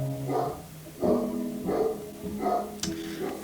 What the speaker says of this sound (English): one of my dogs is barking